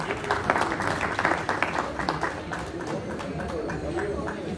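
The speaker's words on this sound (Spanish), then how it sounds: "Un aplauso, por favor." A seated audience at a community talk in Actopan, Hidalgo claps for a local butcher, giving a busy round of applause that swells early and then holds steady, with a little crowd murmur underneath.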